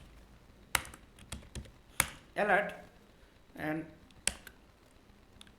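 Computer keyboard typing JavaScript code, a handful of sharp separate key clicks spread across the moment, close, with someone talking briefly between them.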